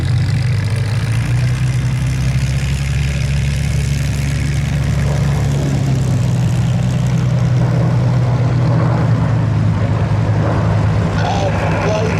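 A formation of Spitfire warplanes on a final pass at the Sywell airshow, a steady loud low piston-engine drone that holds throughout and swells slightly toward the end, with no talk over it.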